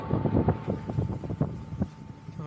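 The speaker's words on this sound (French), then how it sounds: "on est plein dans les bourrasques catabatiques là" Strong katabatic wind gusts buffet a sailboat at about 22 to 23 knots, a loud continuous roar of wind noise on the microphone with surging gusts and a faint tonal hum.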